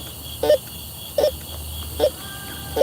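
A Bounty Hunter metal detector sweeping for coins at night, giving four short, evenly spaced beeping tones about a second apart over a steady background hiss of insects.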